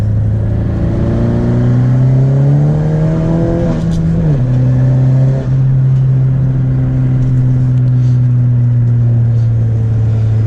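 A turbocharged Honda Civic FK7 sport hatchback with a big turbo pulls hard from inside the cabin, its loud engine drone climbing steadily, dropping briefly at a gear shift near four seconds, then holding a strong steady pull.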